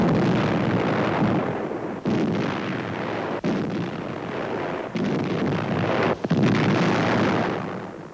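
World War II D-Day artillery fire on the Atlantic coast: heavy booming blasts that swell into long rumbling roars, separated by brief sharp breaks, loud and continuous with no speech.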